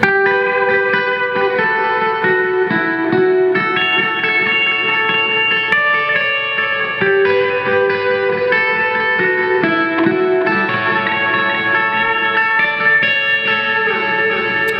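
A sustained electric guitar part from a song plays steadily with heavy effects, its notes ringing out with a processed, reverberant tone and no talking.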